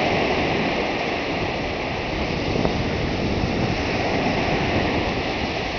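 Waves wash continuously onto a sand beach at Beach Meadows, a broad, steady roar of surf with a little wind noise and no voices.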